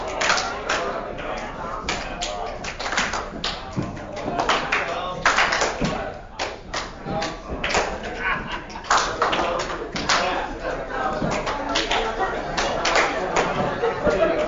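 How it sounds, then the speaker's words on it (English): A group at a board retreat stomps, snaps and claps together, making an irregular patter of sharp hits and taps that overlap loosely, with voices and chatter running underneath throughout. "So stomp, snap, clap."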